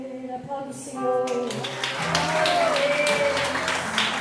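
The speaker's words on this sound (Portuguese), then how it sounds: "Aplauda o Senhor." A church congregation at an evening worship service applauds and swells into sustained, dense clapping. Music fades out beneath it and voices call out over the applause.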